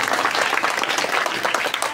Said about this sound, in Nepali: सहमतिको ताली।